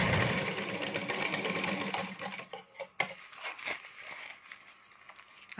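Sewing machine running a double stitch on a katori blouse, a fast continuous mechanical whir that slows and stops with a few sharp clicks near the middle, heard close up.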